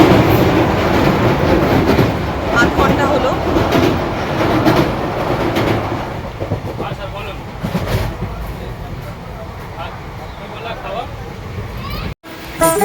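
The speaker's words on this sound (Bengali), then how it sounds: "পাঁচটা পঁচপান্নতে আমাদের ট্রেন ছেড়েছে শুনতে পাচ্ছ কিনা বুঝতে পারছি না" A moving passenger train rumbles steadily with broadband rail noise for most of the journey, and a voice speaks over the running sound throughout.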